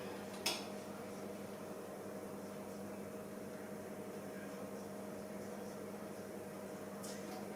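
Steady whirring hum of a fan-forced oven preheating at 180 Celsius, a constant low drone with a faint click near the start and a soft tick at the end, no talking.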